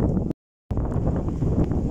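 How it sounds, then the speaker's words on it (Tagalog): Strong wind on a farm buffets the microphone with a heavy low roar and rustle, cut by a brief dropout, then continuing. "My goodness, grabe talaga yung hangin dito."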